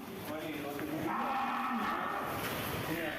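Cattle kept in a pen as sacrificial animals for Eid al-Adha near Palembang moo loudly, one long drawn-out low call close by over a busy background.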